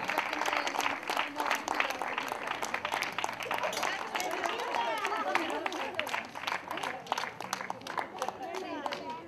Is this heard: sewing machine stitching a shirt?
no